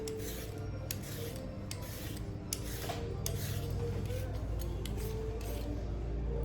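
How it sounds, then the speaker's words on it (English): Carrots being peeled for Haitian soup joumou, repeated rasping scrapes in an irregular rhythm over a steady low background hum, close and fairly quiet. "Now it's time to peel our carrots."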